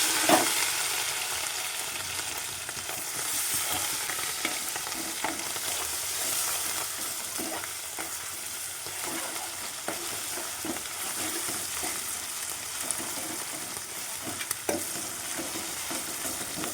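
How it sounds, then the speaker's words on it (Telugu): Onion, coconut, ginger and garlic fry in oil for a fish curry, a dense steady sizzle with frequent stirring scrapes, close and uninterrupted by voices. "ఫస్ట్ ఆయిల్ వేసి తర్వాత ఉల్లిగడ్డ, కొబ్బరి, అల్లం ఎల్లిగడ్డ, కాల్పులు వేసి మంచిగా గోలియాలి బ్రౌన్ కలర్"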